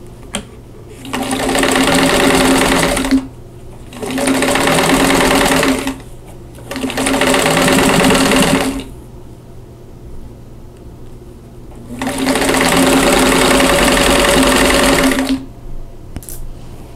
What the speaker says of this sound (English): I have the 2 halves and I'm just going to sew those together